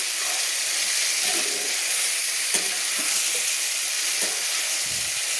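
Pui mitchuri greens being sautéed with mustard paste and spices, giving a continuous loud hiss of frying with occasional spatula scrapes and stirs, close and without speech.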